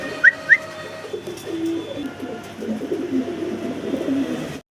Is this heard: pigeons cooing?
yes